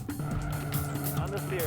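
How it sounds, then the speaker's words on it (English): A drift car circling with its rear tire spinning and smoking, the engine droning loudly with squealing tires and shifting pitch, under steady talk throughout. "Keep a constant circle, the rear tire spinning, putting out smoke, see if you can do it."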